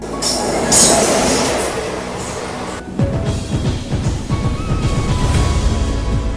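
The Mysuru Swarna Jayanti Express, hauled by a WDP 4D diesel locomotive, rumbles loudly and close with a steady roar of wheels and engine, then shifts into a denser rhythmic rattle of coaches passing.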